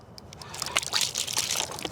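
Water sloshing and splashing out of a plastic water bottle as it is opened, a close, short burst of irregular splashes and drips lasting a couple of seconds with no talk.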